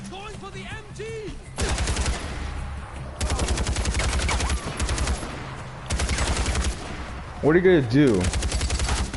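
Rapid machine gun bursts in the video game Far Cry 4, loud and sustained in several long strings separated by short gaps, with a voice speaking briefly in between.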